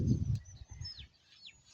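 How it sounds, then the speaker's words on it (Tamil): Sparrows chirp faintly in a paddy field, thin high calls scattered over about two seconds, with low outdoor rumble at the start. "சிட்டுக்குருவி சத்தம்லாம் கேட்குது பாருங்க."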